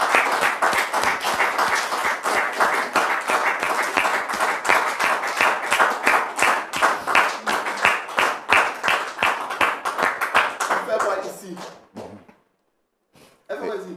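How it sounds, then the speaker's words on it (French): Audience applause welcoming a guest on stage, loud, dense and sustained clapping for about eleven seconds before tapering off into near silence, with a brief sound returning at the very end. "Public, merci de recevoir notre frère Maxime sous vos applaudissements"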